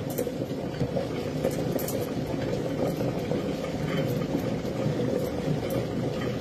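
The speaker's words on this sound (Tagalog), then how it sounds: "Kumukulo yung tubig." Water boils in a pot, a steady bubbling and churning rumble that holds at a low, even level throughout with no talking.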